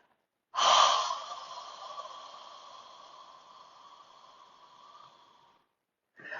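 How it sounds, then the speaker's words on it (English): A single long, deep exhale through the mouth during a yin yoga breathing exercise, starting with a strong breathy rush and slowly tapering off over several seconds, close and alone in a quiet room. "Slow, deep inhale through your nose. Exhale through your mouth."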